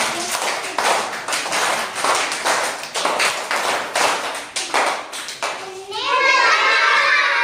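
A group of young schoolchildren claps loudly in a repeated rhythmic series of sharp bursts during a classroom game, close and energetic, with children's voices rising at the end.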